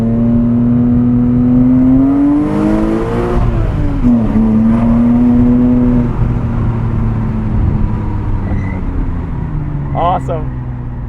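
Flat-six engine of a 2006 Porsche Cayman S with a six-speed manual, pulling steadily under acceleration from inside the cabin, pitch climbing, dipping at a shift, then rising again before easing off; loud throughout.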